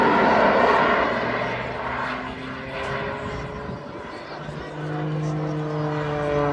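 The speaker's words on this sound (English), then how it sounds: "you'll now climb with full thrust of the engines" Jet engines roar at full thrust as a display aircraft climbs at the Blackpool air show, a loud sustained rumble with a shifting pitch that fades slightly, under a commentator's voice.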